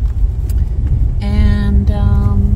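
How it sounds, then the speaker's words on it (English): A lifted Honda Element drives along a road, its engine a steady close hum with a tonal whine rising through the second half of the clip. "So we'll just drive around and have a look at it."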